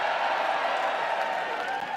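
A wrestling event crowd cheers and roars steadily throughout, voting for Rich Swann, a dense wash of distant voices without breaks.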